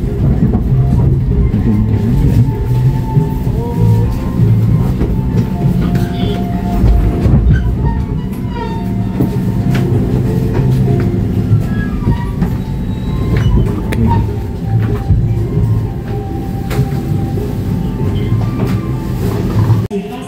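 A Tegal Bahari passenger train pulls into Pasar Senen station, giving a loud, steady rumble with rail clatter and faint wheel squeal that runs unbroken throughout.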